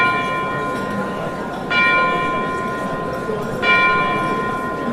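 A school bell rings in two separate bursts, each a bright metallic peal that swells and fades, over a steady background hiss.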